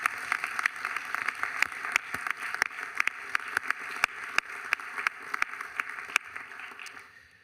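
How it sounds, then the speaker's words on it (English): City council chamber audience giving a round of applause, moderate group clapping with distinct sharp claps standing out, sustained for several seconds before tapering off at the end. "I'd like to give those two a round of applause"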